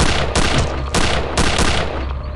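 Gunfire in Return to Castle Wolfenstein aimed at a sniper, loud close shots cracking out in a few separated bursts over a dense, rumbling backdrop.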